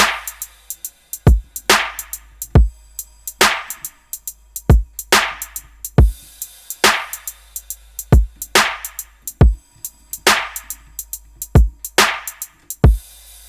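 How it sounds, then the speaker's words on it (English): Electronic drum loop at 140 BPM with punchy kick, crisp snare and ticking hi-hat, repeating in a steady swung pattern, loud and alone with no other instruments. "So I just have a kick and a snare, a hi-hat going on"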